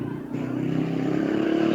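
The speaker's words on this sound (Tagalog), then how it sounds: "Maingay ang mga motorsiklo." Motorcycles passing on a nearby road, a steady engine drone that builds and grows louder, with a voice heard faintly underneath.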